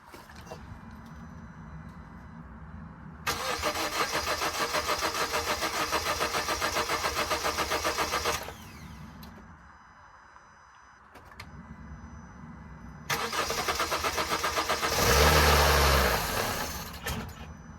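A 2015 Honda Fit is started for the first time after a head gasket replacement: a starter whirs in two long cranking bursts with a pause between, then the engine catches and idles loudly, all up close.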